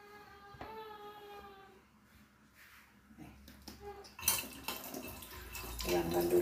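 A tap runs into a sink while stove parts are washed at night, with splashing and clattering of metal pieces growing louder toward the end, and a voice speaking quietly at first.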